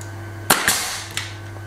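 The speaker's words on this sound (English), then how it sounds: "Right, the nail gun's reloaded." Nail gun firing nails during a farmhouse renovation in Spain: two sharp, close, loud pneumatic bangs in quick succession, then a fainter third knock, over a steady low hum, with no talk.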